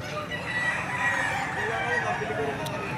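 Rooster, a bull stag gamecock, crowing steadily at moderate distance over a busy outdoor background of other fowl and farm noise.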